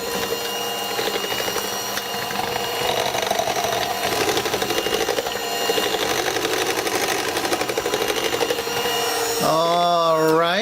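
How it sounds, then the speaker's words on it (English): An electric mixer gently beats chocolate cake batter, giving a loud, steady close-up motor whir with a rapid rhythmic rattle that runs throughout, then a rising, wavering pitch near the end as the speed changes. "now we're going to go in with the mixer and we're going to mix this very gently"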